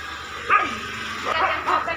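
A few short dog barks and yips, fairly close, spread over two seconds against a low background hum.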